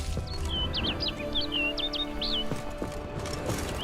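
Small bird chirps in The Witcher 3, a string of quick high tweets over steady horse hoofbeats and a low ambient hum, with no talking.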